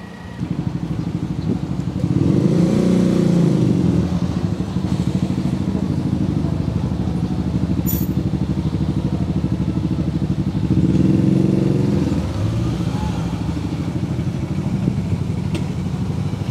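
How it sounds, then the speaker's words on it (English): A Triumph motorcycle with cut-off street pipes at an indoor motorcycle show in Tokyo throbs loudly and close, with two stronger rev swells over a steady rumble amid a busy hall. "Check out this Triumph. Totally cut off street pipes."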